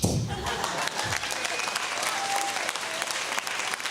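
A live audience bursts into loud applause, dense clapping swelling at the start and holding steady throughout, with crowd murmur and a voice faintly under the clapping.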